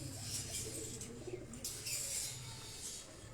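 Breeder pigeons cooing in a loft in Havelian, Hazara, a steady low murmur of overlapping coos close by with soft rustling and faint chirps.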